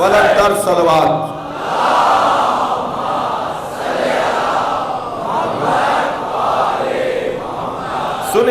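A congregation at an imambargah majlis during Muharram loudly reciting salawat together, a sustained swelling chorus of many voices rising and falling in waves.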